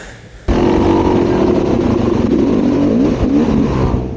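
A Yamaha YZ250 two-stroke dirt bike engine, due for a top end rebuild, revving loud and close during a ride, starting abruptly after a brief quieter moment and holding a sustained raspy buzz.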